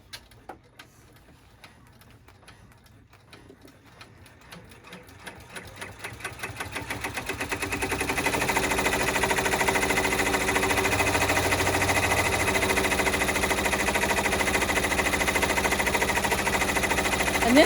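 An embroidery sewing machine stitching at 900 stitches per minute starts with slow, sparse clicks, speeds up over several seconds, and then settles into a fast, steady, close mechanical chatter that runs until the end.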